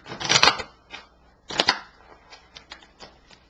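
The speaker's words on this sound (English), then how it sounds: "Let me shuffle that fast because some fell out." A deck of tarot cards is shuffled in quick riffling bursts, two strong close flurries followed by fainter scattered flicks and taps, with no talking.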